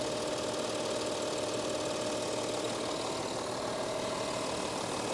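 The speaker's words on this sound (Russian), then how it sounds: "Двигатель TDI. Работает, сами слышите" A 2015 Volkswagen Touareg TDI diesel engine idles smoothly, giving a constant, even rumble and clatter that stays at the same level from start to finish, with no voices over it.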